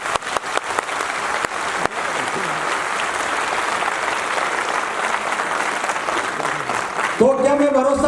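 A crowd at a university event in Noida claps loudly and steadily, opening with a few sharp individual claps before a dense wash of applause, and a voice comes in near the end.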